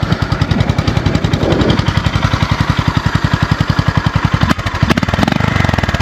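The single-cylinder engine of a 2025 Honda GB350S motorcycle idles up close with a loud, steady, rapid thumping pulse that keeps its even rhythm throughout.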